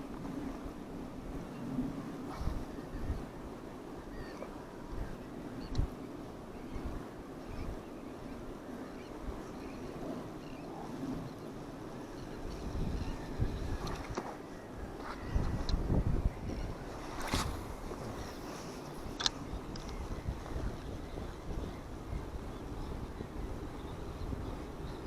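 Wind buffets an outdoor microphone beside water, a steady rumbling roar with gusty surges and a few louder thumps partway through, with no voices.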